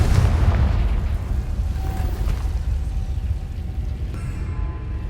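A Confringo blasting-spell explosion in Hogwarts Legacy, a loud, deep rumbling boom that stays heavy and sustained throughout before thinning slightly at the end.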